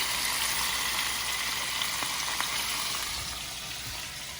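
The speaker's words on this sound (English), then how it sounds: "While that is frying" Steady, dense sizzling of shrimp deep frying in hot oil, a continuous crackling hiss close by that eases slightly toward the end.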